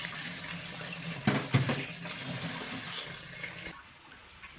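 Cold tap water runs over boiled banana flower to rinse it. A close, steady stream of splashing water has a few louder gushes midway, then eases off near the end.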